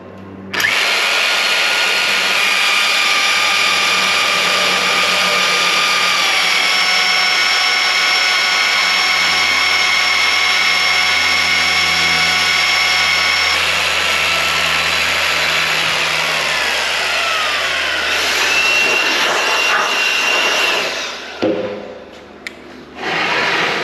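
A power drill bores holes into a steel PFC beam, a loud sustained whine with ringing metallic overtones that runs steadily for about twenty seconds before winding down and stopping.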